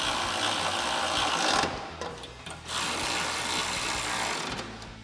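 A power tool or ratchet runs steadily on the hinge bolts of a Barricade Extreme HD modular front bumper on a 2019-2021 Silverado 1500, with a 16mm socket and 17mm wrench, buzzing close and loud with a brief dip midway.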